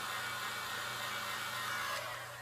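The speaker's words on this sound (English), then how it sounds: "Just grab your heat gun again. Low setting. Give it a little heat up." A heat gun on its low setting warms the 3M emblem adhesive on a 2001 second-generation Dodge Ram, giving a steady, close whooshing hiss of blown air that runs unbroken and eases off slightly at the end.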